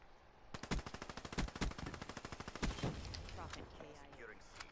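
Rapid automatic gunfire from the video game Black Ops 3: a fast, steady burst of evenly spaced shots, briefly interrupted, then resuming and trailing off into softer, scattered noise. Fairly quiet overall.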